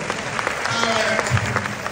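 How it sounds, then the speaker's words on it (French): Audience at a live comedy show in Cotonou clapping in a short, steady burst of applause, fairly close, with some crowd murmur mixed in. "Applaudissez pour vous-même."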